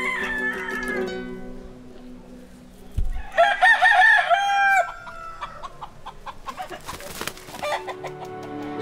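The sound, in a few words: fighting rooster crowing in Haiti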